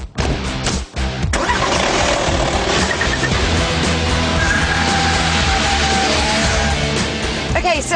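A 2.5-litre turbo diesel van engine cranks briefly, catches, and settles into a steady, loud diesel idle that runs on without a break.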